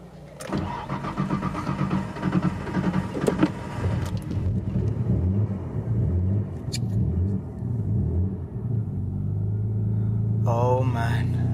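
An Audi RS6 engine catches and settles into a deep, steady rumbling idle, loud and close, with a brief rising rev near the start and the low throb carrying on throughout.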